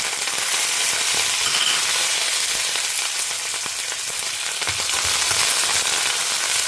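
Curry leaves sizzle and crackle in hot oil alongside urad dal, dried red chillies and tamarind, a steady close frying hiss with scattered pops and no voices.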